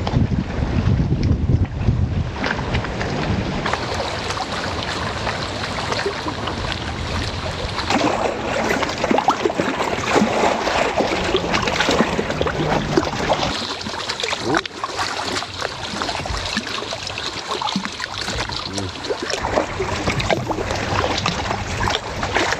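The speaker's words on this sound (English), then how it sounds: "Everything's just getting wavier, it's getting windier." Strong wind and choppy, wavy water on an open lake near an island, with steady broadband gusting and wind buffeting the microphone throughout, continuous and loud with no clear talk.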